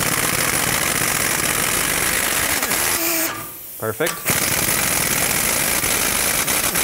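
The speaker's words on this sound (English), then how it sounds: "So I'm going to try to break these free with my impact gun first." An impact gun works at the bolts on a 2007-2010 Chrysler Sebring during a front CV axle replacement, a loud continuous buzzing hammer that cuts out for a moment, stutters, then runs on; a voice speaks briefly during the gap.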